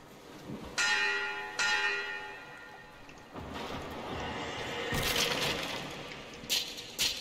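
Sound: bell ringing in the video game Metro Exodus

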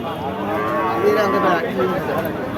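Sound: cow mooing at a cattle market

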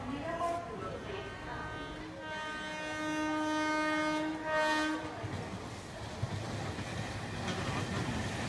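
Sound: train arriving at station, bound for Howrah

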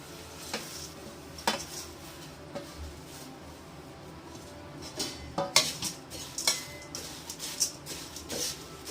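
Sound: red flattened rice (aval) being dry-roasted and stirred

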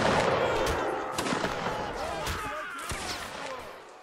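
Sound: musket gunfire in Napoleonic Wars video game battle

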